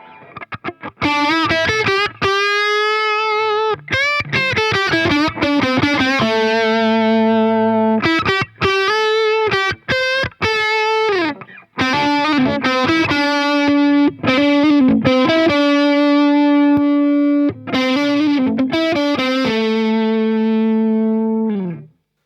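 Loud, heavily distorted Les Paul electric guitar through a CTC Heatseeker pedal with its wall-of-sound effect on plays a riff of sustained chords and quick notes, with a thick, full tone and a final chord fading away.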